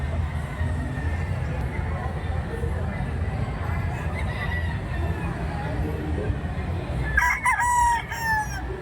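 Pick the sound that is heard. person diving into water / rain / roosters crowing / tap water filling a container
roosters crowing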